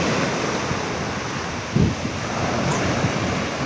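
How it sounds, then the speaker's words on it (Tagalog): Large ocean waves off Socorro, Surigao del Norte, make a steady broadband wash with wind buffeting the microphone and one brief thump near the middle. "lalaki ng alon"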